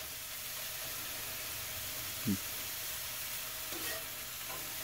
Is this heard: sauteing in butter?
yes